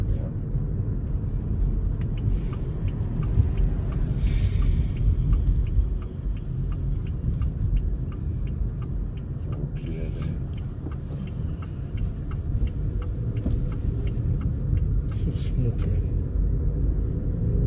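A 2021 Haval Jolion Luxury accelerating hard on the road, heard from inside the cabin as a steady low engine and road rumble rising under occasional talk.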